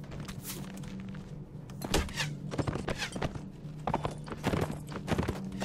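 Horse hooves of horse archers in a Warband Imperial Rome mod battle, a busy clattering clip-clop of many hooves mixed with thuds and battle noise, loud and continuous throughout.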